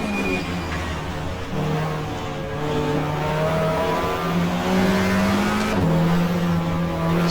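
A race car engine in the GTR2 racing video game at the Mallala circuit revs loudly and steadily, its tone climbing and dropping through gear changes as the car is flicked through the corners, close and alone.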